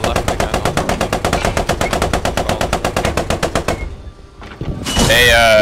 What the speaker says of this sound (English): you've been shot by a machine gun in HE on that trench